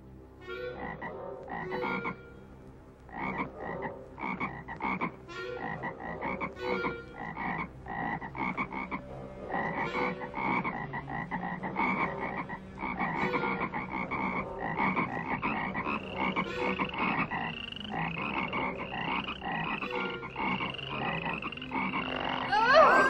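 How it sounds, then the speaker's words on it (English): Frogs croak steadily in a dense, continuous chorus of many overlapping calls over the land of Egypt, rhythmic pulses layered together and building slightly louder toward the end. "the frogs began to come up and to cover the land of"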